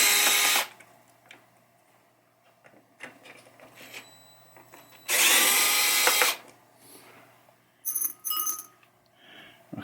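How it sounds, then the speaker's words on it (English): Short whirring bursts from a gyroscopic power screwdriver turning screws on a 1976 Bally Captain Fantastic pinball machine, separated by quiet gaps with small clicks and tool handling. "New screwdriver, gyroscopic. Push the button. You just turn it however you want to tighten or loosen the screws."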